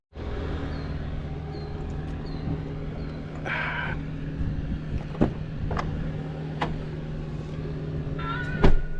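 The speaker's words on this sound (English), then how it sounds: "let's throw this stuff in the back of Howard's truck and hit the road" Howard's pickup truck drives along a road, heard from inside as a steady engine hum and road rumble, with occasional small clicks and knocks over the drone.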